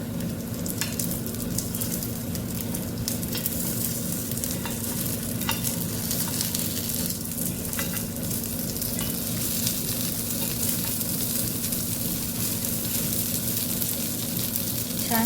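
Rice tikkis fry in a pan at home with a continuous close sizzle and bubbling, while occasional soft scrapes and taps mark them being turned, steady throughout with no voices.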